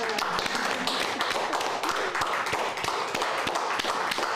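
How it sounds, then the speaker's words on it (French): A seated audience at a book presentation on Russian emigration in France claps in a steady, dense round of applause, moderately loud and even throughout, with little speech mixed in. "Je pense qu'on peut applaudir."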